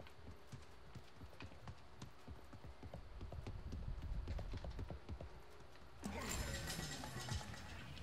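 Rapid clip-clop of horse hooves galloping in the online battle royale game Realm Royale, a steady close rhythm that gives way to a brighter burst of game effects near the end, with no talk.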